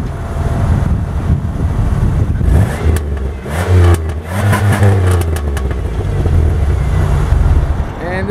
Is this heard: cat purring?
no